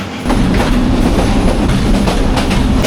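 Agnibina train running on rails from Mymensingh to Dhaka, a loud continuous rumble with rhythmic clickety-clack of wheels over joints, heard close from inside the coach with no voices.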